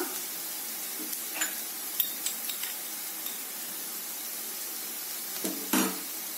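Masala mixture fries over a medium flame while being stirred in a pan, a faint steady sizzle broken by a few sharp scrapes and taps of the spoon.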